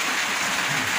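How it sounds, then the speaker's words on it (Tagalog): Heavy rain pours down steadily, a dense, loud, even hiss of drops with no breaks or voices, heard from shelter where people waited out the downpour. "nandito kami kasi inabutan kami ng ulan."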